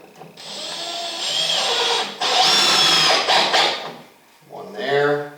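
A power drill drives screws into a bench board, whining loudly in several sustained bursts that rise in pitch, pause briefly, and start again close by, with no talk.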